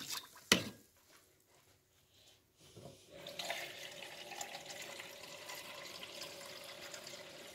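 Water for a sugar syrup, one kilo of water to one kilo of sugar, runs from a tap into a vessel: a sharp clack, a short quiet stretch, then a steady close rush of pouring water with no voices.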